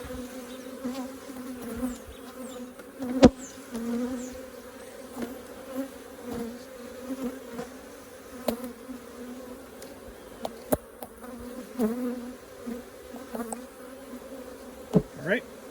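Honey bees buzz around an open Flowhive box, a steady close drone with individual bees passing near and away and occasional soft knocks from handling.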